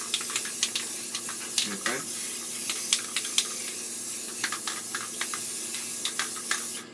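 A spray paint can sprays black paint onto paper in a steady close hiss, broken by faint clicks, while a voice talks briefly over it.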